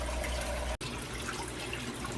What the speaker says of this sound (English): It is quiet, even though all you hear is the splashing.